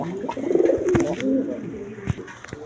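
Pigeons near their eggs in a coop coo softly in low, throaty, rolling phrases close by, with a few faint clicks and shuffles around them.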